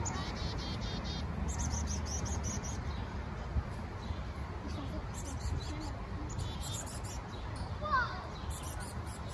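A chick and its mother bird chirping outdoors, with thin high cheeps repeating in short bursts over a constant insect-like hiss, faint and somewhat distant, and one brief closer call near the end.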